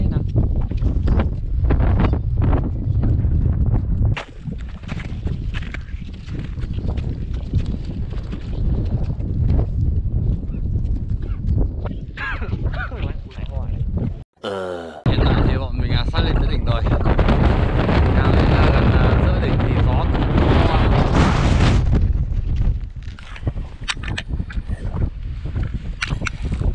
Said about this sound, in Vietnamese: Gió to lắm mọi người ạ.